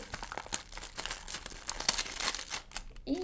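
A plastic surprise packet from a dragon card collection crinkles and tears as it is opened, a dense run of close, rustling crackles that ends with a short spoken word.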